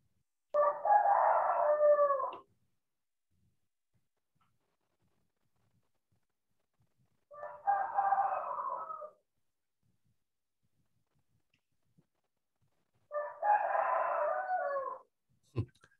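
A rooster crows three times, each crow a long, loud call with pauses of several seconds between them and silence in the gaps.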